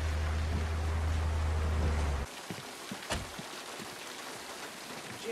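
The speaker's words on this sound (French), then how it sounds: "I'm sorry I didn't hear you in all this rain" Heavy rain in the film Psycho, a dense hiss over a low steady hum that cuts out abruptly partway, leaving a quieter patter of drops with a few sharp knocks.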